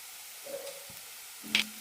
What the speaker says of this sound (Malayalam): നന്നായി മിക്സ് ചെയ്യാം ഒരു മിനിറ്റ് നന്നായി വഴറ്റി കൊടുക്കണം